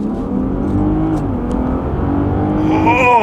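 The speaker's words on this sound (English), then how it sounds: "I'm gonna floor it here" A 2024 Range Rover SE PHEV accelerates at full throttle, its engine a steady, loud droning whir that climbs in pitch toward the end, heard from inside the cabin without talk.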